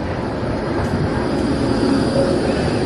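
A tram pulls into a city stop in Switzerland on a busy Saturday after snow, giving a steady close low rumble and hum of wheels and motor with no talk over it.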